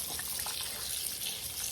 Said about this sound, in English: You can do it the way I do in just a bowl and wash my butter and pour it out.